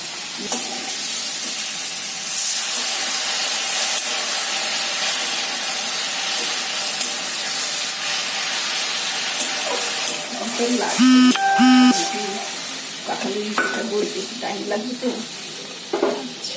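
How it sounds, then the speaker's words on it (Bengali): Jackfruit seeds are stirred in a cooking pot with ginger, cumin and coriander paste. A continuous sizzle and hiss runs under the stirring, and someone talks over it toward the end. "কাঁঠালের বিচি গলতে সময় লাগবে বলে বেশি ক্ষণ নাড়তে হবে"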